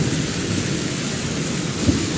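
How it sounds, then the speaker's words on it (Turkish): Thunder rumbles through a steady heavy downpour in Kahramanmaraş during a rainstorm, a continuous low roll under the hiss of rain with one brief louder crack near the end, no talking. "Gök gürültüsünü duyuyorsunuz."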